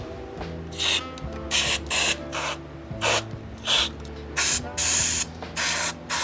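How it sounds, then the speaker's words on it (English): Short hissing bursts of aerosol spray into bass guitar potentiometers repeat in quick succession, with faint mechanical clicks and a low hum between them. "So I spray them out and just turn them a bunch of times."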